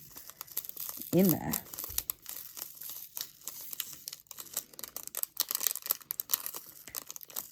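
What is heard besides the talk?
cutting open and pouring a crinkly pack of diamond painting drills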